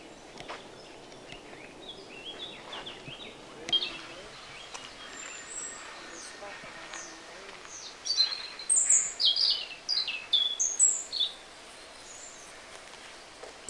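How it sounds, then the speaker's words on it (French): Wild birds sing outdoors in a quiet natural setting, scattered chirps early, then a burst of clear, fairly close, rapid repeated song phrases toward the end over a soft background hush. "il y a un certain nombre de chants d'oiseaux que l'on capte bien"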